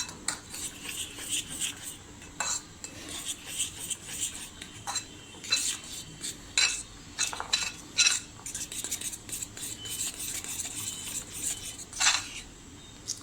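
A metal spoon scrapes and clinks against a bowl in an uneven rhythm, mixing milk powder into an instant kharvas mixture, with close, sharp taps over a quiet background.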